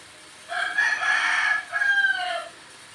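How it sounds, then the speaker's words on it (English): A rooster crows in a rural province of the Philippines: one long, loud, two-part cock-a-doodle-doo, fairly close and standing alone over a quiet background. "you probably hear the cockerel in the background"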